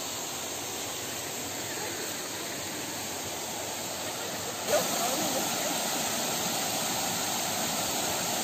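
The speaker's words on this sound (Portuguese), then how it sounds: "Aqui é só a zoada da água mesmo" Water rushes in a steady, dense broadband roar, loud and close, with a slight jump in level midway and no distinct talking.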